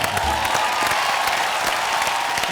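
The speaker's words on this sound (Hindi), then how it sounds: "जोरदार तालियां" Studio audience applause on a television game show, a loud, sustained rattle of many hands clapping with some cheering mixed in, nearby and continuous throughout.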